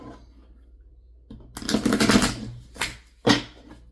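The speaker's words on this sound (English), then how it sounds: "let me shuffle this" Tarot cards are shuffled by hand in three bursts of riffling and flicking, a long rustle followed by two short ones, close and fairly loud in a quiet room with no talking.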